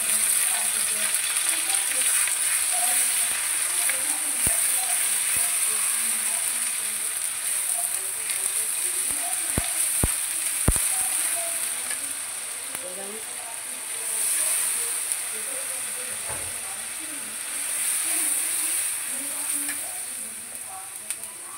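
Pangas fish oil with ginger-garlic paste frying in a pan, a steady close sizzle with occasional clicks and stirring scrapes, running continuously.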